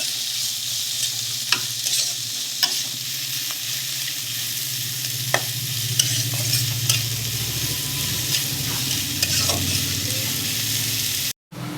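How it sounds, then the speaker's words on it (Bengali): Chopped onion, cumin and dried red chilli sizzle steadily in hot oil in a home kitchen, a loud continuous frying hiss with occasional clinks and scrapes of a stirring utensil against the pan, with no talk. "পেঁয়াজ জিরে আর শুকনো লঙ্কাটাকে ভালো করে লাল করে নেব একটু।"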